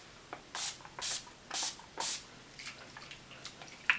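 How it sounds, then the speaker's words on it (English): Four quick hissing spritzes of makeup setting spray misted onto a face close by, evenly spaced, followed by a few fainter spurts. "I'm just going to spray 3 of these on my face to kind of set what I have so far."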